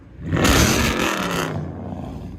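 A Chrysler 300 HEMI V8 engine gives one loud, roaring rev that peaks quickly and then falls back to a rumbling idle, heard up close with no talking.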